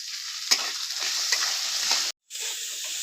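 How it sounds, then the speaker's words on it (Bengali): Tomatoes and other ingredients sizzle steadily in a hot pan, with a few soft scrapes of stirring and one brief break in the sound. "এই সবকটা উপকরণ একটু ভালো করে নেড়ে চেড়ে ভেজে নিয়েছি"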